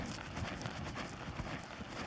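A horse lopes a quiet, big circle on the right lead, hooves thudding in a steady three-beat clip-clop on soft ground, close and continuous.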